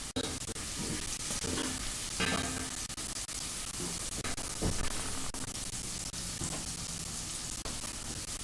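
Steady loud sizzling of chicken frying in a pan for tacos, with occasional scraping and clinks of stirring throughout.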